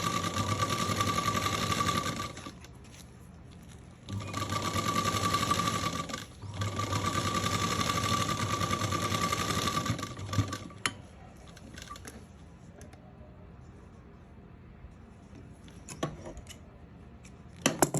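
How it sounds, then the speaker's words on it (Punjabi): A sewing machine stitches a T-shirt seam in steady, close whirring runs, stopping and restarting several times, with quieter handling clicks and rustles in the pauses. "ਜਿਹੜੀ ਆਪਣੀ ਪਹਿਲੀ ਸਿਲਾਈ ਹੈ ਉਹਦੇ ਹਿਸਾਬ ਨਾਲ ਹੀ ਆਪਾਂ ਸਾਰੀ ਸਿਲਾਈ ਇਹ ਸਿਰੇ ਲਾ ਦੇਣੀ ਹੈ"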